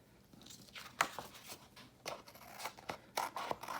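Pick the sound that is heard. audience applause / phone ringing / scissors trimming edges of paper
scissors trimming edges of paper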